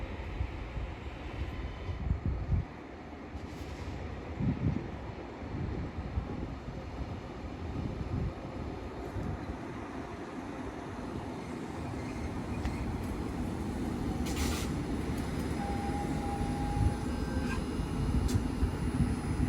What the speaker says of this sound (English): Next train to arrive in is a 331 going to Manchester Airport